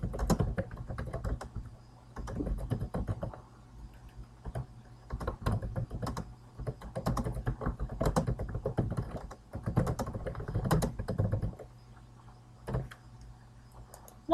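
A note being typed on a computer keyboard, quick close clusters of key taps in bursts with short pauses between, over a faint steady hum.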